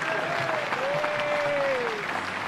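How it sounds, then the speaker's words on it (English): A cricket crowd applauding Lewis Goldsworthy's fifty, steady clapping from a stand across the whole stretch, with a whistling tone rising and falling above it. "Crowd just rising to celebrate that 50 from Lewis Goldsworthy."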